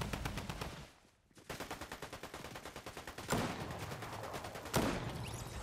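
Rapid bursts of automatic gunfire in a Fortnite match, near and loud, with dense repeated shots running almost throughout, a brief lull early on and sharper louder blasts later.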